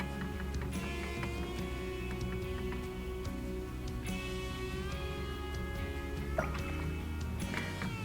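Water drips and trickles softly during watercolor painting with a travel set of granulating paints, with a few small, sparse liquid ticks and a faint splash over a quiet, close background hum.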